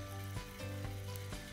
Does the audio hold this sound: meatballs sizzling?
yes